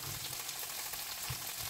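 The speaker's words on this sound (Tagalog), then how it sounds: "Gisa-gisa lang natin ito guys" Spring onion sizzles steadily in a hot frying pan for a sardine sisig dish, a continuous bright crackle of oil with soft stirring bumps and no talking.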